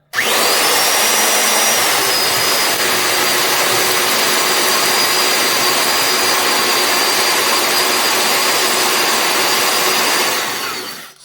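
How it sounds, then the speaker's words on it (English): A Milwaukee 3/4-inch heavy-duty electric drill whirs loudly and steadily at close range for about ten seconds, then winds down. No one speaks. "It does sound like a more substantial drill."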